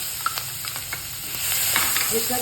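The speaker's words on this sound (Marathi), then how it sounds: "छान परतून घेऊया आपण छान परतून घेते मी" Chopped ridge gourd sautés with asafoetida and turmeric in a hot pan, with a steady close sizzle and light scraping and stirring clicks from a spoon.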